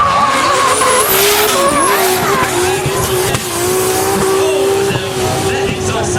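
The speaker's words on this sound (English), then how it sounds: "That exhaust sound absolutely menacing." A drift car in a tarmac competition event slides through a corner, its loud menacing exhaust roaring alongside sustained, wavering tire squeal, close and continuous throughout.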